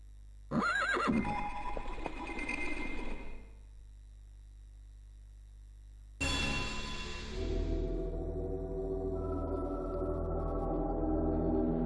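A horse in the PS1 video game Digimon World whinnies loudly twice, each neigh long and shrill, over a steady low electronic hum with faint hoofbeats.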